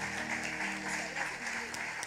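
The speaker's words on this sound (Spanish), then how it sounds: "Pueden aplaudir." A church congregation claps together during a service, the applause soft and continuous over a faint sustained musical tone.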